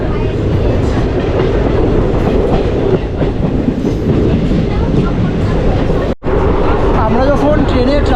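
A passenger train rolls along the rails on the Katwa–Ahmedpur line in rural Bengal, a loud, continuous rumble with rhythmic clickety-clack close by, faint chatter in the carriage and a brief dropout near the end.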